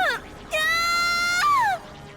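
A woman's high, sustained scream rings out alone for just over a second, rising and then sliding down at the end, with a short shrill cry just before it.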